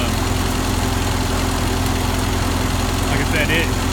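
A Ford 8N tractor engine runs steadily up close, a loud continuous low idling drone with a vibrating hum that never lets up.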